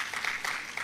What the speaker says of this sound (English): Can we please give another round of applause for our board chairperson?